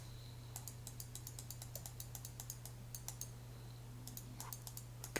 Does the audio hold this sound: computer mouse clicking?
yes